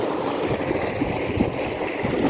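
Water gushes from a 15 HP solar-powered tube well pump in a steady, loud, close rush and gurgle that runs continuously, with no talk over it.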